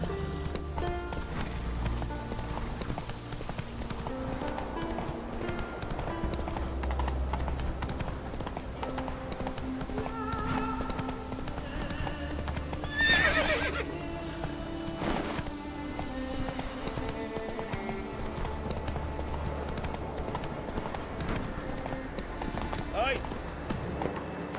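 A horse gallops with steady clip-clop hoofbeats through The Witcher 3, with an occasional whinny, under game music and ambience; someone speaks briefly.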